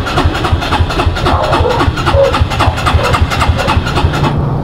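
A Suzuki Skydrive scooter engine cranks repeatedly without catching, a rapid, loud, close chugging rhythm that continues without a break across the whole stretch.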